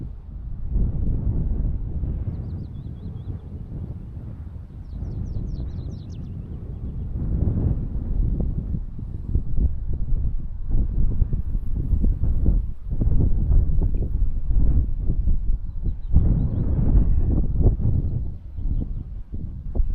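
Strong outdoor wind buffeting the microphone, a rough, low rumble that swells and gusts unevenly throughout, with faint higher chirps now and then.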